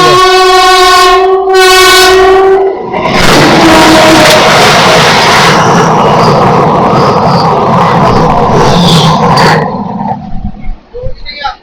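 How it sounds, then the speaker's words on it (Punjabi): A Vande Bharat train's horn blares in two blasts at a station, then a loud roaring rush as the train passes close by for several seconds before fading out. "ਇਹ ਆ ਜੀ ਵੰਦੇ ਭਾਰਤ ਟ੍ਰੇਨ"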